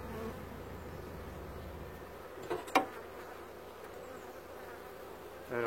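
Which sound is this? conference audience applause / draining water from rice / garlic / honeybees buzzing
honeybees buzzing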